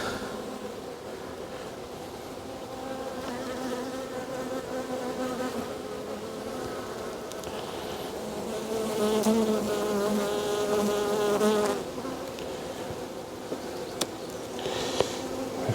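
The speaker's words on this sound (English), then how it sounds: "we have got a good box of bees" A dense, steady buzz of many honey bees around an open hive in an apiary, on a windy day, rising slightly in intensity midway, with no voices.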